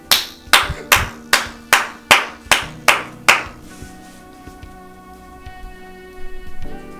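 Nine sharp, evenly spaced hand claps ring out close and loud in a quick steady rhythm, then stop, leaving a quiet room with faint background sound.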